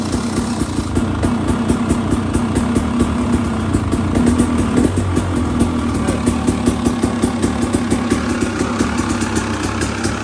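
A 2019 KTM 300 XC two-stroke dirt bike fitted with a Lectron Billetron 38 carburetor runs at a steady, close idle with a rapid, even pulsing engine beat and no voices.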